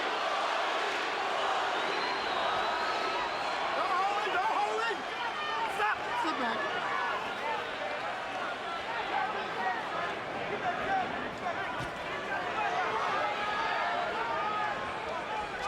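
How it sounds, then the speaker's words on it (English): Boxing arena crowd during a Shane Mosley fight, a dense roar of voices with a rising chant running through it, sustained and distant-sounding across the whole stretch. "Mosley fans in the crowd begin to chant for Shane."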